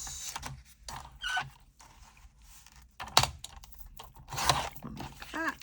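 Scissors snip through collage masterboard paper in a quiet series of short, uneven crisp cuts and rustles, with small pauses between strokes.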